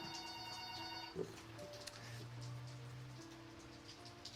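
A telephone rings inside the video game Sever is Down during beta gameplay. Its steady electronic tones hold over a rainy background hiss, with a faint click partway through and no talking.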